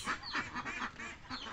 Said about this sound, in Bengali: অনেক হাঁস আছে এখানে